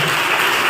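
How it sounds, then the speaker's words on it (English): Brief burst of audience applause at an Ayurveda talk on geriatric depression, a dense, steady patter of many hands clapping close by, with no voices over it. "A big applause to you."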